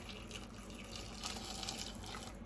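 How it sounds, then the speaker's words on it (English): Hot boiling water pours and swirls into a bowl of lard, a steady close liquid rush with bright splashy texture that holds at even loudness throughout, with no talking. "Now I'm going to be stirring in this hot boiling water into the lard"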